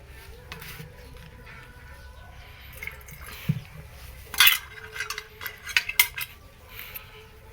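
A metal spoon rinsed with water, a soft trickle and low background noise giving way to several bright clinks and rattles of the spoon against a vessel in the second half, close by.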